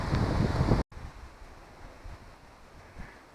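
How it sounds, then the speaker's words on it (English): Loud, blustery wind roars against the microphone beside a lake for a moment, then drops off sharply, leaving a lower, steady rush of wind with occasional gusts. "it's getting very, very windy"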